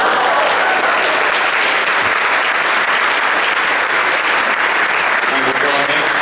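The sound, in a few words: audience applause for a prize winner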